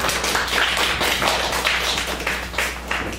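Audience clapping at an academic conference to welcome a professor to the podium, a steady, dense patter of many hands filling the room without pause.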